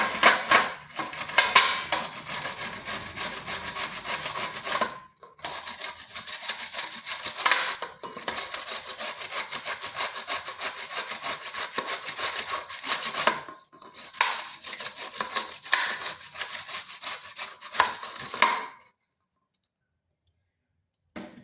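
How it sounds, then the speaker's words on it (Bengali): Rapid rhythmic scraping of a peeled carrot rubbed against a grater, in bursts separated by short pauses, close up and fairly loud. "গাজরটাকে ছুলে করে ধুয়ে নিয়েছি এরপরে গ্রেটারের সাহায্যে গ্রেড করে নেব"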